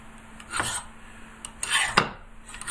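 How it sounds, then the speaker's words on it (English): A Lamwell knife drawn in a few gentle strokes while being sharpened for oboe reed making, soft close scraping rasps, three or four brief strokes over a quiet background. "I'll do the same thing with this Lamwell knife. A few gentle strokes, just sort of working the point."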